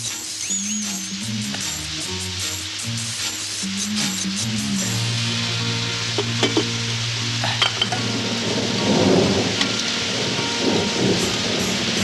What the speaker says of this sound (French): Il pleut, maître.